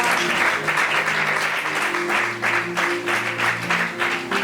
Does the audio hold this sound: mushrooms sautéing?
no